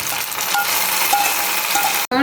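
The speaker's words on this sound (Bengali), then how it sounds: "এখন বাগারটা দিয়ে দিব, এই যে বাগারটা দিয়ে দিব" Ghee and browned onion tempering hits potato khichuri with a loud, close, continuous sizzle that cuts off abruptly near the end.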